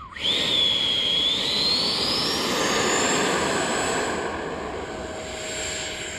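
An X-Fly Alpha electric ducted fan RC jet flying overhead, a loud sustained rushing whine with a rising high-pitched tone, close and steady throughout.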